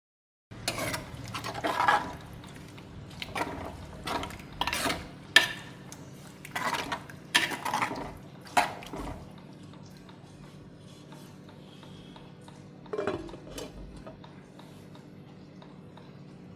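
A spoon stirs a pot of Kerala-style roasted-coconut shark curry with water just added. Clustered metallic scrapes and clinks come in bursts, then a quieter stretch and one last clatter, with no talking.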